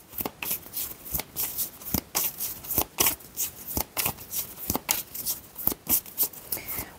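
Oracle cards being shuffled by hand for a tarot reading, a quick run of crisp riffling bursts that repeats in a steady rhythm, close and clear with no talking.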